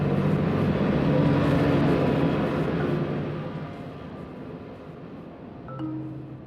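Steady broadband rumble of marine boat traffic recorded underwater in Guanabara Bay, a dense engine and propeller drone with low tonal hums that stays loud, eases off midway, then swells briefly near the end.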